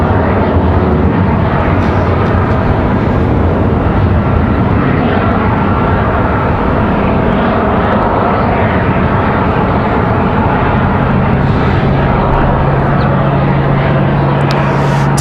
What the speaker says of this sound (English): That A220 departure, Delta 1075 off to Boston, Mass.